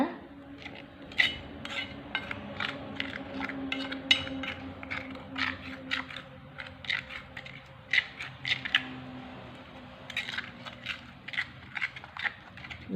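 A spoon clinks and scrapes against a bowl while stirring a curry leaf powder and onion juice hair dye mix, quick irregular taps at close range, fairly quiet, with no one talking.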